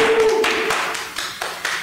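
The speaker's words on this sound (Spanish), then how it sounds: "Un aplauso para todos." Applause for everyone in a Pumafit fitness session, a small group clapping, fairly loud and close at first, then thinning into scattered separate claps, with a brief tone at the start.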